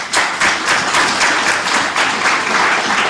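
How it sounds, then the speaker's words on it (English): Applause from an audience at a regional state-of-the-region address in Otjozondjupa, Namibia: a dense, steady round of clapping that carries loudly and evenly throughout, with no voices over it. "Give them a round of applause."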